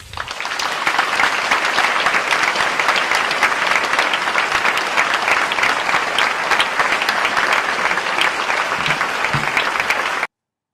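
Sustained audience applause at a Davidson College talk by columnist David Brooks, a dense, loud, even clapping from a large crowd that rises quickly and holds steady for about ten seconds before stopping abruptly.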